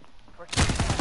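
Rapid gunfire in the Call of Duty: Modern Warfare video game, a loud burst of repeated shots starting suddenly halfway through and continuing to the end, with a voice faintly under it before.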